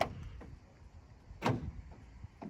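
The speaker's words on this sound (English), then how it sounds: "you just did a double pulse on that lock just to fire that bolt in on the side door and the barn door" An electronic deadlock on a Citroen Relay, Fiat Ducato or Peugeot Boxer van double-pulses to fire its bolt on the side and barn doors: a few short mechanical clunks, the sharpest near the middle, fairly close and otherwise quiet.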